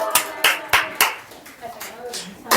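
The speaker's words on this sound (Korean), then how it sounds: "우리 박수를 한 번 더" A few sharp, evenly spaced hand claps during a Korean church service, loud and close, then trailing off into softer sounds, with voices faintly present.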